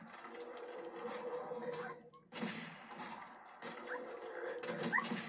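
A dog whimpers and yelps in a zombie shooter video game, faint and high-pitched over a busy game soundscape, fading briefly before the cries return.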